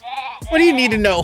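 Sheep bleating in the video game Cat Detective: Albert Wilde, a short wavering bleat up front followed by a character's voice speaking over more bleat-like tones.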